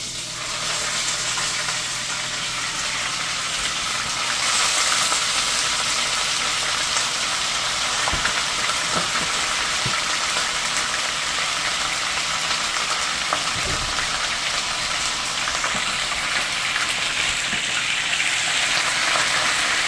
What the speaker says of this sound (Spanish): Ahorita lo que voy a echar es ya mi carne para que se empiece a freír.